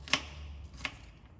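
Two sharp knife chops through an onion on a cutting board, crisp and close, spaced under a second apart, with no talking.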